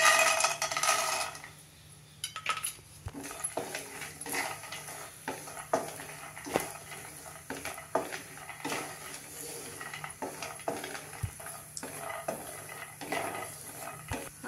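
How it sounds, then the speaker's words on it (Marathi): Peanuts roasting in a tablespoon of oil in a pan for a dry masala, heard as a steady close sizzle broken by frequent light metallic scrapes and clinks of stirring. "एक टेबलस्पून तेल घालते आता ह्याच्यात. त्याच्यावर आपल्याला दाणे भाजून घ्यायचे आहेत."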